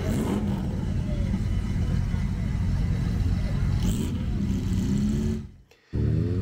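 A Porsche 911 Carrera engine at a historic Monte Carlo rally stage, a loud continuous low rumble close by under speech, then briefly dropping away near the end.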